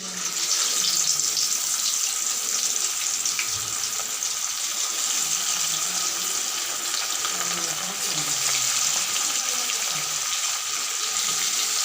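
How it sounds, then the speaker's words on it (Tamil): Pieces of sala fish frying in hot oil, village style, giving a loud continuous hiss and sizzle close up, steady throughout with no speech over it. "மீனை ஒவ்வொரு பீஸாக எடுத்து எண்ணெயில் போட்டு எடுக்கணும்"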